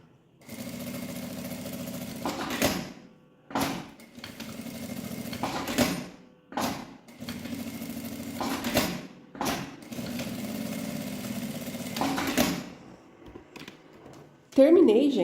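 A sewing machine stitches around fabric in repeated bursts of rapid mechanical whirring separated by brief pauses, close by, with a voice briefly at the end.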